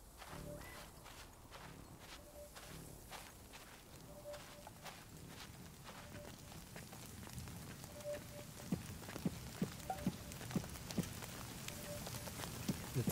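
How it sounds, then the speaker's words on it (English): Rain patters steadily in the shooter game The Cycle: Frontier, faint and continuous beneath footsteps and sharp recurring clicks that grow more prominent toward the end. "It's raining. This is a good thing,"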